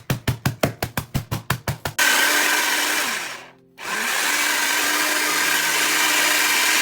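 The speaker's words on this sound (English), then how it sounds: "Crush graham crackers, blend or put in a bag and crush." A blender crushes graham crackers, first in about a dozen short rhythmic pulses, then in a long continuous roar that briefly cuts out and restarts, loud and close.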